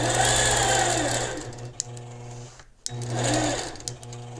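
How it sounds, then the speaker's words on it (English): A sewing machine quilts through a chalk-stenciled quilt, running steadily and loud with a brief pause in the middle before stitching resumes. "I'll just quilt a section of it here so you get the idea"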